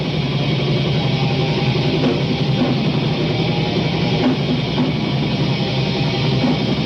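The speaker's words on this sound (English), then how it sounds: "so it's all camcorder recordings at concerts." Camcorder recording of a 1990s death metal concert, a dense, distorted wall of guitars and drums that stays loud and muddy throughout without clear separation.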